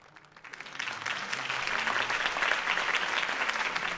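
A crowd applauds after a campaign speech in Batman: The Telltale Series, the clapping swelling quickly into a dense, steady roar of many hands that holds to the end.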